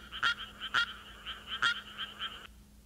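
Common tree frogs calling in a rice paddy, a rapid series of bright croaking trills repeating in short bursts with a few louder calls standing out, fairly close, then stopping abruptly near the end.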